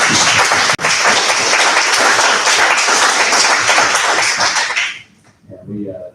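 An audience claps loudly and steadily after a talk on trash, a full burst of applause that stops abruptly, after which a voice starts speaking.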